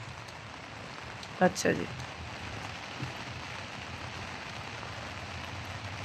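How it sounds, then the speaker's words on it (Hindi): Heavy rain falls on a rooftop in Riyadh as a steady, close hiss that fills the whole stretch, with a brief burst of speech near the start. "ये देखें फुल बारिश"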